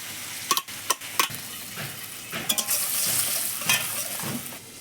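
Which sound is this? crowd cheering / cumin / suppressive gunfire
cumin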